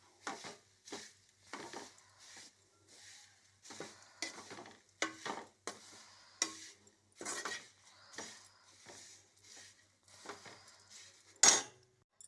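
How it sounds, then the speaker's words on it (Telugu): Flattened rice (poha) fries in oil over low heat as a spoon stirs it in repeated short scraping strokes, close and fairly quiet, ending with one sharp metallic clink. "ఇట్లా ఆయిల్ వేసి అటుకులు వేస్తూ సిమ్ములో వేయించుకోవాలి"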